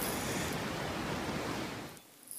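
Water rushes steadily through a settling meadow toward a weir on a micro-hydro system in Colorado, a broad hissing flow close by that drops off sharply near the end.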